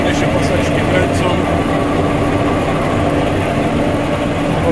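A repaired orchard sprayer runs steadily with its belts turning and both fans engaged, a loud continuous mechanical drone with no breaks.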